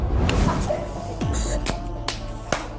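A woman gives a few sharp hand claps, spaced irregularly, inside an old plantation house during a paranormal investigation, standing out over a noisy background with faint voices.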